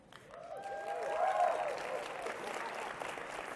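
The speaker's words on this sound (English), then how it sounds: "Somehow I knew the Iowa folks were going to clap on that one, Jemar" An audience at an education symposium awards ceremony claps, a soft, steady patter of applause swelling over the first second and then holding, while a voice speaks over it.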